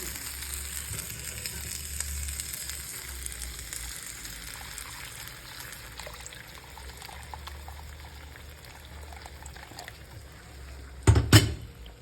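Potatoes sautéing in a pan hiss softly and steadily, then water is poured in near the end, setting off a sudden loud burst of bubbling sizzle that quickly settles.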